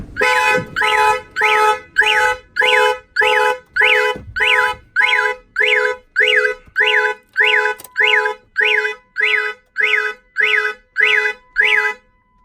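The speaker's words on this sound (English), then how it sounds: "I'm gonna go ahead and open the door. And the alarm will fire off." After a car door is opened, the car alarm goes off loudly and close by, sounding a rapid repeating rising-falling electronic whoop in even bursts for about twelve seconds.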